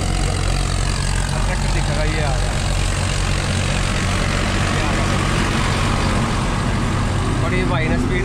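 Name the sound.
Farmtrac Champion tractor engine driving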